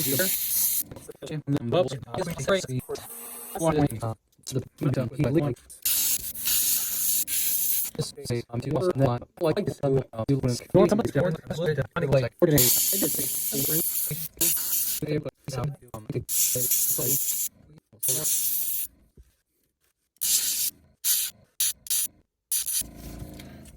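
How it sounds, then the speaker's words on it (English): Airbrush spraying paint lines onto a fishing lure, starting at the bottom of the gills for a craw pattern: loud, repeated hissing bursts of air that start and stop, broken by short silences. "So we just really just start at the gills, the bottom of the gills here, and just airbrush a line."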